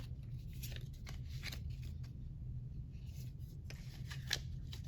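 Flexible cardstock oracle cards with gold-gilded edges being shuffled, producing soft, quiet riffling and snapping bursts at irregular intervals over a low background hum, with no voices.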